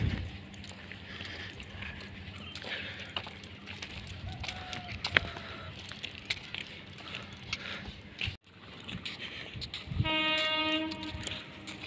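A train runs along a railway track, with ongoing rumble and clatter from the cars; near the end a sustained horn blares. Outdoor ambience and some metallic jingling sit in the background.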